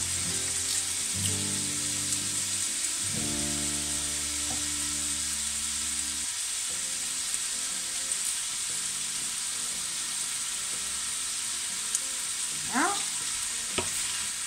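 Endives sizzle as they sauté in a pan under a constant hiss. A faint low hum runs underneath, and a couple of soft scraping stirs come near the end. No one speaks.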